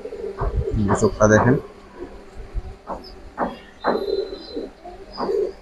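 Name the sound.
Kaldom pigeons cooing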